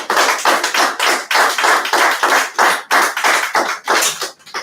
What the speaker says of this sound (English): Please continue with that applause.